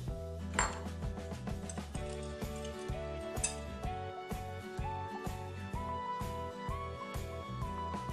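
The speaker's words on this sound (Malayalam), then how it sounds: "ആ ബൗളിലേക്ക് നമ്മൾ ഈ മുട്ട ബീറ്റ് ചെയ്തത് ഒഴിച്ചു കൊടുക്കാം. എന്നിട്ട് നന്നായി മിക്സ് ചെയ്യാം." Beaten egg is stirred with chopped vegetables in a bowl, a quiet rhythmic run of spoon clinks and taps against the bowl repeating steadily and close.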